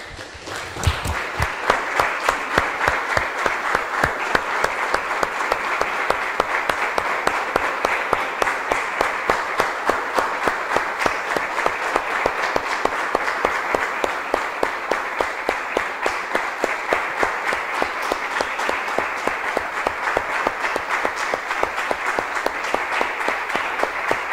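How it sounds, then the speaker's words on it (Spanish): A church congregation applauds in praise, a dense, steady wash of many hands clapping that carries on loudly for over twenty seconds with no talk over it. "Damos un aplauso, hermanos, al Señor."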